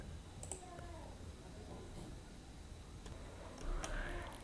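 A few sharp mouse clicks sounding in a quiet room while working in the GoDaddy Website Builder, sparse and faint against low background hiss.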